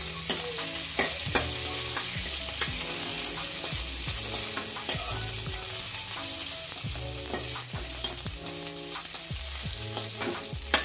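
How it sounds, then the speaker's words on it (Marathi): Mustard seeds and cumin frying in hot oil for a Khandeshi kadhi give a steady close sizzle. A spoon clanks and scrapes against the pan in an irregular stirring rhythm throughout, with no talking. "मोहरी जिरं तळली का मग आपला मसाला घालायचा।"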